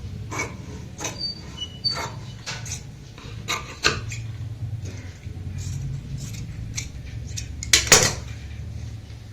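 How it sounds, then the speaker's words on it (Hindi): Scissors snip through plain fabric at the center of a neckline, a series of short sharp cuts and clicks spaced irregularly, fairly close and quiet, with light handling noise between them. "सेंटर से कटिंग कर लेनी है"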